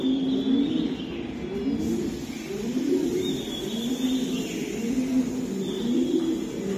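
Racing pigeon giving soft, rolling coos again and again, close by, against a steady background hum.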